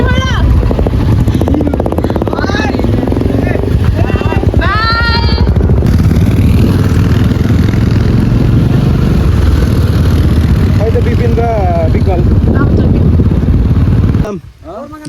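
A motorcycle engine rumbles loud and continuous while riding along a dusty road, with voices talking over it and an abrupt drop near the end.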